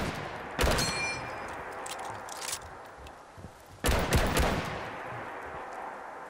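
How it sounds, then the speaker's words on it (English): An M1 Garand rifle fires two loud shots in Fallout 4, about three seconds apart. The first shot is followed by a high, ringing metallic ping, and quieter ambient game noise fills the gap between the shots. "Now we have the M1 Garand. Of course, it has the beautiful ping sound as well."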